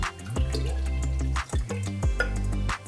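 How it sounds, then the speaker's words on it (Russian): A little water is poured into a container while a sugar wash for home brewing is set up, giving several short splashing pours with brief trickles and drips between them, close and fairly loud. "Потом добавить сюда водички немного."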